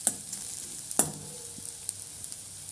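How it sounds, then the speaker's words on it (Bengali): Chopped garlic frying in oil in a home kitchen pan, a soft steady sizzle with a couple of sharp stirring clicks and scrapes, close and fairly quiet, no talking. "রসুন কুচিটা দিয়েও ভালো করে ভেজে নেব।"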